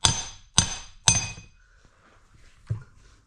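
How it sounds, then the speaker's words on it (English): Three quick metallic hammer taps in close succession, then a fourth after a pause, knocking out an input shaft seal on a Massey Ferguson 35 tractor; each strike rings briefly and sharply, close and clear. "Might need a hammer to give it a little encouragement."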